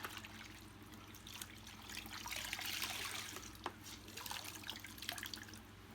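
Water sloshes and drips in a bucket as a cloth is dipped and wrung out, brief trickles and splashes over a steady low room hum, close by with no talking.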